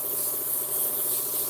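Sanding of turned wood on a lathe, a brief, steady, hissing abrasive rub that is continuous and fairly loud throughout.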